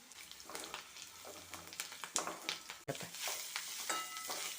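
Curry leaves and asafoetida sizzle steadily in hot oil in a pan while Chettinad coconut thuvaiyal is being prepared, a close, continuous frying crackle with occasional stirring scrapes and no talking.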